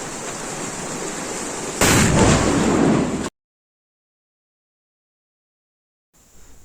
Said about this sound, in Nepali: अब चाहिँ हामी बम पड्काउनु लाग्दैछौँ